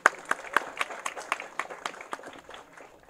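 A small crowd claps at a steady, moderate pace at a Tamil film audio launch event, the individual claps distinct and fairly close, without cheering.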